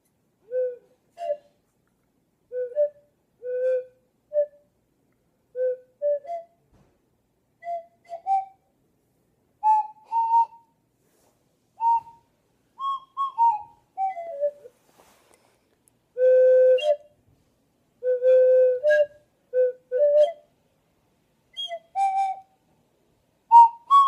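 A flute played badly, with thin, wavering notes in halting, uneven phrases separated by pauses, some pitches sliding or cracking, alone and fairly clear.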